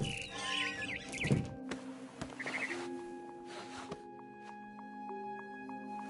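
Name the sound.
barn swallow chirping, video game What Remains of Edith Finch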